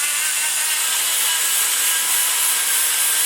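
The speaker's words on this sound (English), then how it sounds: "So we just take our sand rolls" Sand rolls blending out cured material inside the tubes of a Dart Pro One BBC 325 engine, a steady, loud abrasive whir that holds without a break from start to finish.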